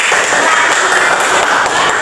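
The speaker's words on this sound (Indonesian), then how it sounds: "Berikan tepuk tangan dulu untuk temannya" Students in a Bahasa Indonesia classroom clap for a classmate, a loud, steady patter of many hands that continues evenly without a break.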